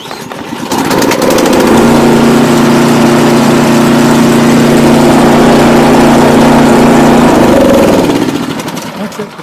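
A Husqvarna ST224 two-stage snow blower engine runs steadily for most of the stretch, a loud continuous drone with a stable low hum that swells in after a brief start and fades near the end.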